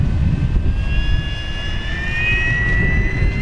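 A large FMS Corsair 1700mm RC model warbird on 8S electric power roars at full throttle as it takes off, a loud, steady propeller and motor whine with a rising pitch close by, with no talking.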